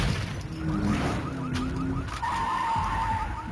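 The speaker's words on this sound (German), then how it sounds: "Ich höre gerade nur ein Auto quietschen" Car tires screeching in a video game, a thin drawn-out squeal rising above a constant engine and game backdrop, with no talk over it.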